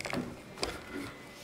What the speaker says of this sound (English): you can hear the pump going right now.